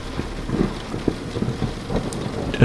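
Heavy rain pours steadily on a stormy night, thick broadband hiss with low thunder rumbles rolling underneath, the loudest swell arriving near the end, with no voices present.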